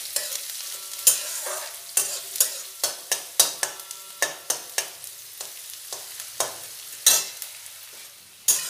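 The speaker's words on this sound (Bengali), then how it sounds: "দিয়ে দেব কুচনো পেঁয়াজ আর কাঁচা লঙ্কা।" Chopped onion and slit green chillies stir-fried in a pan for a Bengali spinach dish, with a spatula scraping and clacking about twenty times at a steady rhythm over a faint sizzle, close up and with no talk.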